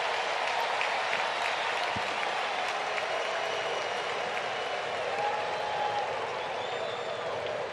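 A baseball stadium crowd at a Brewers vs Braves game cheers and applauds loudly and continuously, a dense wash of clapping and voices that holds steady for several seconds with a brief commentator voice mixed in.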